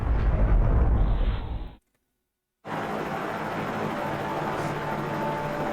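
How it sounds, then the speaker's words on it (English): A large compound explosion in the video game Resident Evil: a heavy, roaring noise burst, then abrupt silence, then a sustained rumbling wash of debris and fire noise continuing steadily at full loudness. "There's the explosion."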